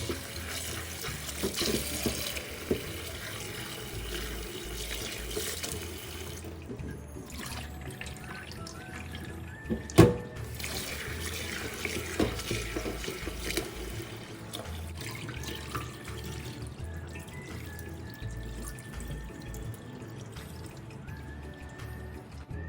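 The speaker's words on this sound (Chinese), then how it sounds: "这时候再将红豆清水冲洗几遍，直到水清。" Cooked red beans rinsed under running tap water in a sink, a steady close splashing stream with brief surges and pouring, continuing for the whole stretch with no talk.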